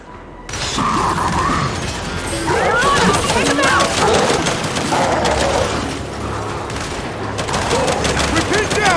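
Rapid turret gunfire rattles through a firefight in Gears 5, sustained bursts with mechanical clatter, close and loud over several seconds, with voices shouting over the din.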